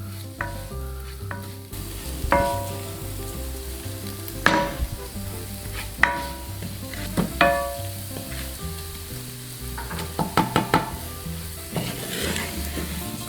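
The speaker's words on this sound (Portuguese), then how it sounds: "Então aqui é mais uns 5 minutinhos aí mexendo sempre" Risotto rice with pinhão, steady frying sizzle in a pan under repeated stirring, with a spoon knocking and scraping the pan at intervals, close and moderately loud, no talking.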